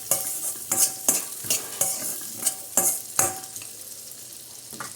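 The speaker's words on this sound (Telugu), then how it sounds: "వేసుకుని లో ఫ్లేమ్లో గోల్డెన్ బ్రౌన్ కలర్ వచ్చే వరకు వీటిని ఫ్రై చేసుకోవాల్సి ఉంటుంది" Dry fruits and nuts fry on a low flame while a spoon stirs and scrapes the pan in quick bursts, a light sizzle under the repeated metallic strokes, close by.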